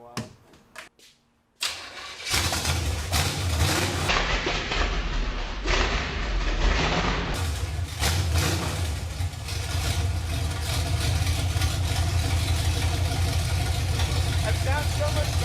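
An El Camino project car with a leaky exhaust, unstarted for a while, cranks a few times, then catches and settles into a loud, rough, rumbling idle that runs steadily, with people talking over it.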